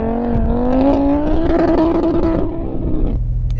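An Audi RS3 launches hard with its engine revving up in a steady rising drone that ends abruptly, loud and close, with no talking.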